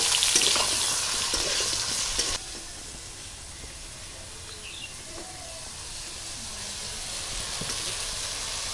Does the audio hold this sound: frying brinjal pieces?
yes